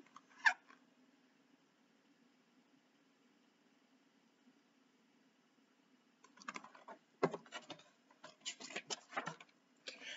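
Black cat sound effect in a Halloween monster-house story: one short sharp cry near the start, then after a long quiet gap a cluster of loud, rough yowling bursts.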